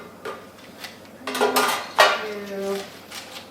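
Metal baking pans for lasagna and muffins clatter and clink as they are set out on a kitchen counter, a series of close, ringing knocks and scrapes of varying loudness with no talking.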